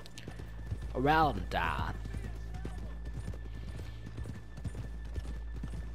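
Horse hooves clip-clop at a walk through a small Red Dead Redemption 2 town, a steady soft rhythm under a voice, with a brief whinny near the start.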